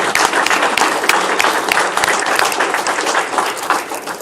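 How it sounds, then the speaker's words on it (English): Audience applause at a city commission meeting honoring a high school softball coach's state championship, a dense, steady round of clapping from a crowd in a meeting chamber, sustained and fairly loud throughout. "Coach, yes, a round of applause."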